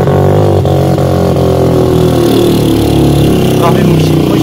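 Motorcycle engine labouring up a steep hill road near Murree, a steady loud drone running throughout with people talking over it.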